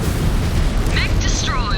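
A mech exploding in the video game MechWarrior 5 Clans: a broad, heavy roaring blast that fills the whole clip, loud and rumbling, with brief synthetic electronic chirps riding over it toward the end.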